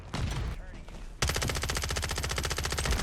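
Automatic gunfire rattles in Call of Duty: Warzone, a loud, rapid string of shots after a brief noisy lead-in.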